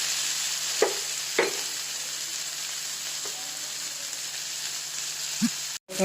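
Onion, tomato and spice paste sizzle steadily in a hot pan, a continuous bright frying hiss with a few soft stirring clinks and scrapes, no talking.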